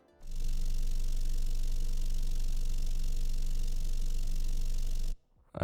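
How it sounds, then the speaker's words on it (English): A car exhaust's steady low engine rumble drones continuously for several seconds, then cuts off abruptly. "The last layer of the opening gate is the car exhaust."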